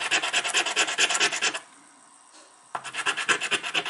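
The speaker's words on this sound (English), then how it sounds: "I think I'm going to sand that down a little bit better here" Rapid, rhythmic rasping strokes of sanding on a small butane refill valve part, loud and close, pausing for about a second before the scraping resumes at the same brisk pace.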